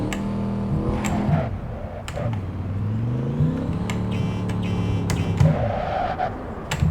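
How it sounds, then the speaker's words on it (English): A basic car in Cyberpunk 2077 drives through the game's city, its engine whirring and rising and falling in pitch as it accelerates, with occasional bumps and clicks, steady and moderately loud with no talking. "Let's just drive through the city and see how this behaves"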